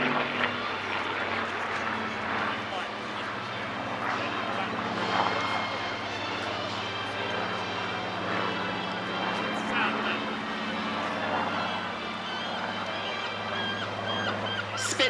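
A Supermarine Spitfire PR XIX at the Clacton airshow, its piston engine droning steadily and evenly from a distance for the whole stretch while a voice talks over it.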